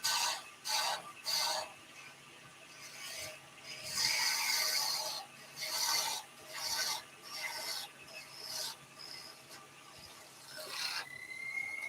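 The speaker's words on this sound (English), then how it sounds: "I'm going to go to a spindle gouge for that because now we're getting quite fine." Wood is turned on a lathe with a spindle gouge, giving bursts of dry scraping and rasping cuts separated by short pauses, close and moderately loud.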